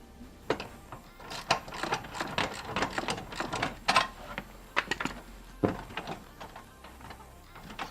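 An M6 nut being loosely tightened on an intake pipe bracket during a Perrin Performance cold air intake install on a Subaru WRX, with sharp intermittent metallic clicks and ratcheting taps, close and irregular.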